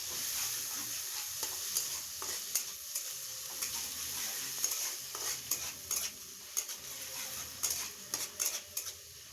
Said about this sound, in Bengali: এবার আমি ওই তেলে দিয়ে দিলাম কালো জিরে আর দিয়ে দিলাম পেঁয়াজ বাটা।